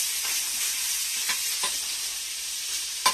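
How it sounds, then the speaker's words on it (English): Small pieces of bologna frying in a pan, a close, even hiss of sizzling fat with a few soft stirring scrapes and one sharper knock near the end. "I'm gonna fry my little bolognas and shit just like regular fried bologna."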